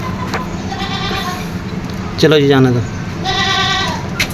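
A Nagra Beetal goat gives one loud, wavering bleat up close, lasting about half a second, amid steady background noise while someone talks.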